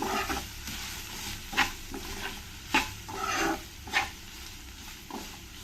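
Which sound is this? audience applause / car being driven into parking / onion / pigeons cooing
onion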